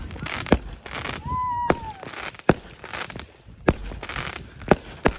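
Fireworks go off at a resort in Mondulkiri in the evening, sharp loud bangs and crackles bursting at irregular intervals, with a rising whistle among them and crowd noise underneath.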